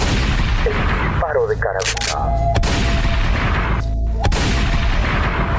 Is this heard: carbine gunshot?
yes